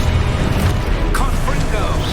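Video game spell impacts from Expulso and Descendo in Hogwarts Legacy, a dense burst of booming blasts and crashing hits over a low rumble. A voice shouts over them.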